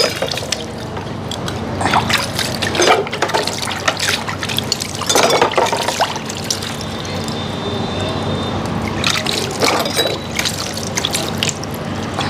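Scrubbed copper and brass utensils being rinsed with water, splashing and trickling close by with metallic clinks, steady throughout and rising in a few louder bursts.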